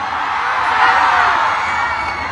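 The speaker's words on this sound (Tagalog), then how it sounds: "Lakasan niyo naman ang inyong mga sigaw." A political rally crowd shouts and cheers in one sustained, loud wash of voices, dense and continuous, with no single voice standing out.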